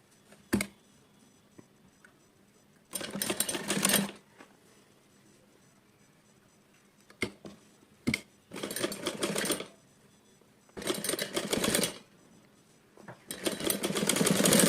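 Sewing machine stitching a seam on a frock, running in several short bursts of fast mechanical whirring separated by quiet pauses, close and clear with no talking.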